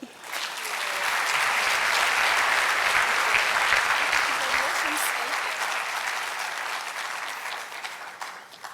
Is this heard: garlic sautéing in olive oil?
no